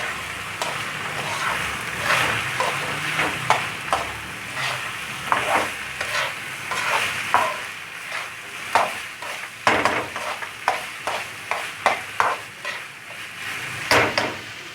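Minced beef fries with crushed chillies, cumin and red chilli in a pan, a sizzle punctuated by frequent rhythmic spatula scrapes and knocks against the metal.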